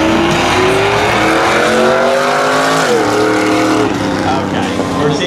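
Mercedes and a truck drag racing side by side at a frontstretch street drags event, engines roaring loud and close with rising, shifting pitch throughout, a brief dip around midway, and a commentator talking over the noise.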